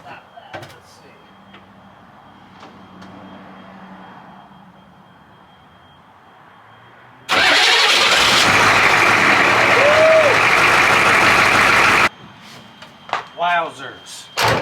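A 1982 Chevrolet K5 Blazer diesel engine fires up without glow plugs, jumping abruptly into a loud, steady roar that holds for several seconds and then cuts off. Quieter ambient noise comes before it, and brief voices follow.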